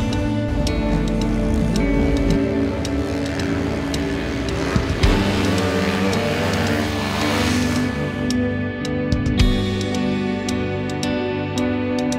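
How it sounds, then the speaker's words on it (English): Motocross bikes warming up in snow drone with steady, loud engine idle and some revving, close by. Brief clicks and knocks cut through, and the higher hiss fades toward the end. "Trying to get the bikes warm so we can get them started and spin some laps in the snow."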